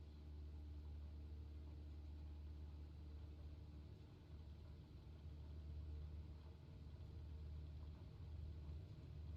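A light piston aircraft in a flight simulator, set up for a soft-field takeoff with one notch of flaps and full-rich mixture, drones with a steady, loud, low engine rumble that holds constant throughout.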